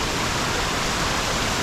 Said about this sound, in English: the water flowing with the waterfall behind